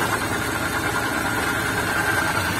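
A multicab mini truck engine idles steadily at close range, a continuous even rumble with light vibration and no talking.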